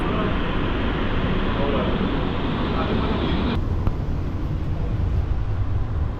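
A local AC EMU electric train pulls out of Guduvanchery station near Chennai, its steady loud rumble and rolling hum heard from on board, with a sudden shift in tone partway through.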